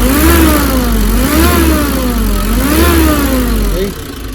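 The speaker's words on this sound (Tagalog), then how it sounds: "umuungol na yung makina" A noisy car engine with its cover removed groans as it is revved, a loud close whine rising and falling in repeated waves over a low idle rumble, with someone talking over it.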